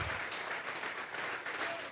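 A church congregation claps hands together as an offering of applause during a Spanish-language service, a faint, steady wash of many hands clapping for a couple of seconds.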